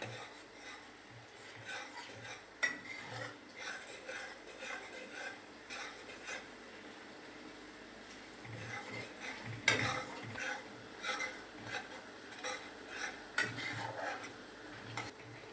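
Ginger and green chillies cooking in a pan for a cashew paneer curry, stirred with a spoon that makes repeated scraping and clinking sounds over a soft sizzle. The sound is fairly quiet and close, with no voices.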